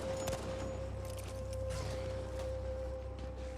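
M1 Garand rifle fire in the video game Battlefield 5, a few sharp shots scattered over a steady battlefield din and humming background, with no voices heard.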